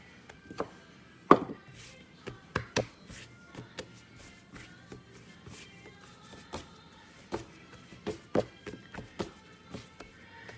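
Garlic and rosemary dinner roll dough kneaded by hand on a work surface: soft, irregular thumps and light slaps as it is rolled and folded back and forth, close by and fairly quiet, with no talking.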